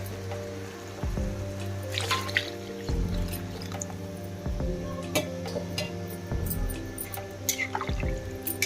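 Water poured into a pan of frying fish curry masala, giving wet splashing and dripping bursts over a steady sizzle, close by, with occasional stirring knocks.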